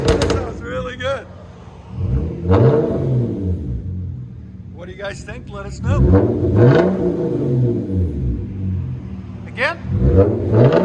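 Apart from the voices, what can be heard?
Hyundai Genesis Coupe 3.8L V6 revving, dual exhaust muffler delete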